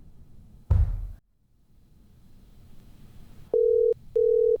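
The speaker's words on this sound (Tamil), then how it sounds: "நீங்கள் டயல் செய்த எண் தற்போது பிஸியாக உள்ளது" After a dull thump and a quiet pause, a telephone busy signal starts: two loud, steady electronic tones with a short gap between them.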